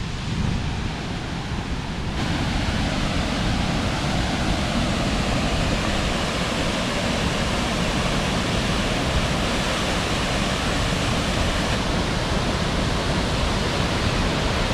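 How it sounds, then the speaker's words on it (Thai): Namtok Si Det waterfall at Phu Thap Boek roars with a dense, steady rush of falling water, loud and close, unbroken for the whole stretch with no other sounds standing out. "น้ำตกสีเด็ดเราก็ได้เดินมา ถึงแล้วนะครับ"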